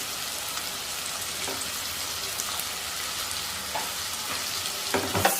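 Beans and potatoes frying in a pan for a homemade mixed vegetable curry, a continuous soft crackling sizzle with a few stirring scrapes toward the end and no talking.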